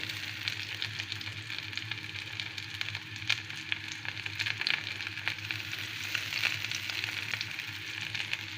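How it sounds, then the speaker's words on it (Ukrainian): Steady crackling sizzle of cauliflower frying in hot oil in a pan, continuous and fairly close, with small pops scattered throughout and no voices. "викладаю на сковорідку із розігрітою олійкою"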